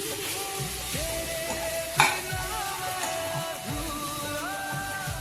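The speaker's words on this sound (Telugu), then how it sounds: "ఇదిగోండి మళ్ళీ వేపుతున్నాం కదా" Ivy gourd and onion masala sizzles in a hot pan while a spoon stirs and scrapes through it in repeated strokes, with one sharper knock partway through, close and steady.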